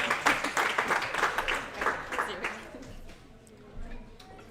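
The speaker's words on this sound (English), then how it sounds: "I think that the room deserves a round of applause for enduring that story." A room of attendees at an anesthesia residents' graduation ceremony claps, dense applause for about three seconds that thins out and fades, followed by quiet room noise and a brief voice.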